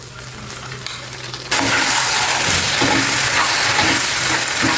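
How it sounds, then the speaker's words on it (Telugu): Ground gongura and tamarind paste hits a hot pan partway through, and a loud, steady sizzle then continues close by to the end after a quieter start. "ఇప్పుడు మనం ఈ గ్రైండ్ చేసి పెట్టుకున్నాం కదా ఈ గోంగూర చింతపండు గుజ్జు ఇది ఇందులో వేసేయండి"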